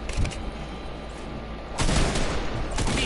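Shotgun fire in an online multiplayer video game: a sharp blast at the start, then a louder volley of heavy shots later on over the background noise of the game.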